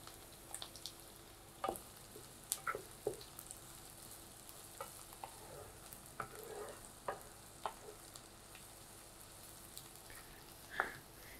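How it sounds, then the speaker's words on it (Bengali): Flat beans and onions fry in mustard oil with a low steady sizzle, broken by scattered stirring scrapes and soft clicks of a utensil against the pan, close by and fairly quiet, with no talking. "আমি সরিষা তেল দিয়ে ভাজি করতেছি"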